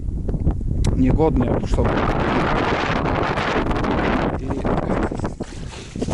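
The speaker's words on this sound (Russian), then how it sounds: "ветрище, знаете какое, блин." Strong wind buffets the microphone beside a shelter in a swampy forest, a loud, continuous roar with gusts. Someone talks under it.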